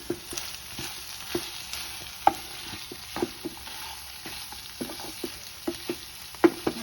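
Pepper chicken fry tossed with fresh mint and coriander, a spoon scraping and clacking against the pan in irregular strokes over a faint steady sizzle, close and alone with no talk.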